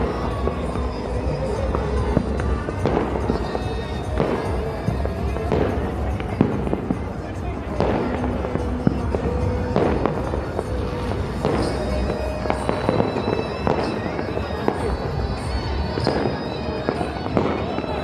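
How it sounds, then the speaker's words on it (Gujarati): Firecrackers and fireworks bursting throughout a kite festival, with repeated sharp cracks and pops at irregular intervals over a constant loud outdoor crowd din, some bangs nearby and others more distant. "ફટાકડા ફૂટે છે."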